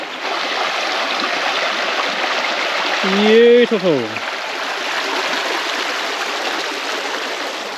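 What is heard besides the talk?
running water of a small river stream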